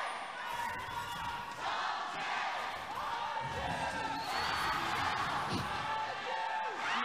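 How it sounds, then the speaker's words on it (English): A large esports arena crowd during a League of Legends match chants Chongqing and RNG in alternating waves of massed voices, loud and echoing, with whoops and cheers rising and falling throughout. "there's one wave of people screaming Chongqing, which is the city that's being played right now, and then there's another wave of RNG"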